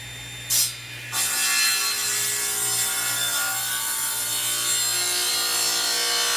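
A hand saw cuts through a section of mimosa wood with a close, continuous rasping. A brief louder scrape comes early, then the sawing settles into a steady, unbroken grind.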